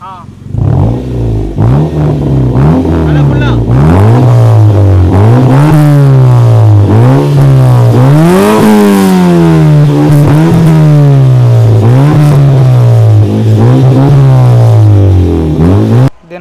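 A modified Honda City Type 2 with a DB killer exhaust revs repeatedly and loudly at close range, each rise and fall of engine pitch following the last in a steady rhythm.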